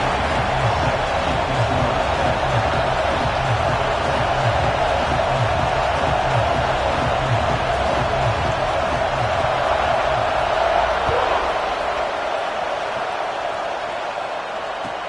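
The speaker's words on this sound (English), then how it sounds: "This crowd ready to make its presence known" A stadium crowd roars steadily at a Michigan vs Oregon college football game in EA Sports College Football, a broad sustained wash of cheering that thins slightly near the end, with a commentator talking over it.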